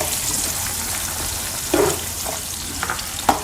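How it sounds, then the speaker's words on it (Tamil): Thinly sliced onions frying in oil in a pan for a Chettinad-style kurma, a continuous close sizzle with a few brief stirring clatters. "சைஸு 2 வெங்காயம் சன்னமாக கட் பண்ணது இதில் அப்படியே நம்ம ஆயிலில் ஃப்ரை பண்ணிக்கலாம்."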